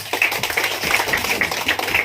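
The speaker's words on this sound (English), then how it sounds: "let's give them a big round of applause" Audience at a Tripura University media workshop applauds the media practitioners with steady, dense clapping throughout the short burst.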